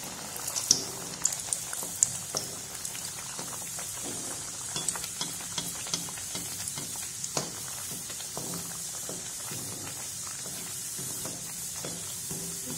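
Puri fries in hot oil, a steady close crackling sizzle with scattered pops and bubbling throughout.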